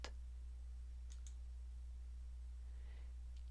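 A few faint, sharp computer mouse clicks, two close together and one a couple of seconds later, over a steady low electrical hum while someone works in QGIS 3.4 mapping software.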